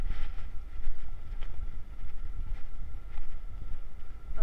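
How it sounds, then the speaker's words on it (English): Strong wind buffets the microphone on a beach where the ocean waves break more aggressively, a steady low rumble of surf swelling and fading throughout with no voices. "I'm going to walk down here where the ocean waves are really a lot more aggressive"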